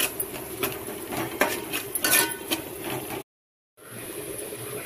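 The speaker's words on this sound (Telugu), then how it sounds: "ఇప్పుడు దీన్ని కలపాలి." A spoon scrapes and clinks against a pan while stirring curry with fried onions, garam masala and ginger-garlic paste, a steady close clatter that stops briefly before resuming.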